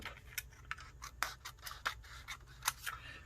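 Scissors cut off a strip of paper for a journal card. About a dozen close, crisp snips come in quick irregular succession with no talking.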